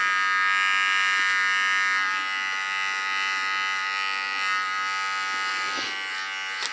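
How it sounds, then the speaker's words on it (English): A small electric hair clipper cleaning up a hair contour, a steady close buzzing hum that runs continuously with slight wavering as it moves. "With a small clipper I clean the contour."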